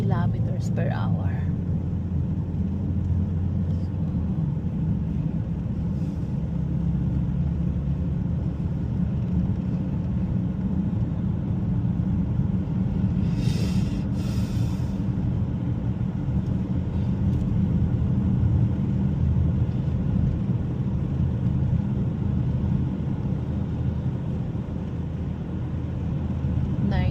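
A car cruising on a highway at about 90 km/h, heard from inside as a steady, continuous low road-and-engine rumble with a faint wash of wind noise that never lets up.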